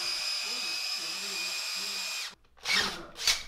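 An electric drill whines steadily at close range for about two seconds, mixing silicone in a bucket for crawdad bait molds, then stops; brief bursts of handling noise follow, and a person speaks faintly under the motor.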